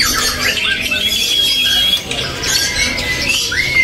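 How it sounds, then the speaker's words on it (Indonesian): A male spotted white-rumped shama (murai trotol) in a bird market kiosk gives loud, sharp squawking calls and thin whistled notes, close and continuous against background chatter. "Ini ada yang namanya murai trotol jantan ya."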